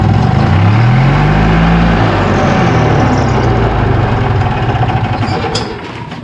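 An EZGo golf cart with its rear raised runs in gear, its engine loud and close, with a rising then falling whine and rough, knocking running as the lifted rear wheel spins before it quiets.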